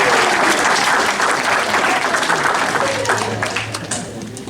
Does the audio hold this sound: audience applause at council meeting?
yes